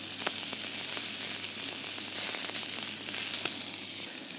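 Filet mignon searing in a hot pan, giving a continuous close frying hiss with scattered sharp pops and crackles, steady and even throughout, with no talking.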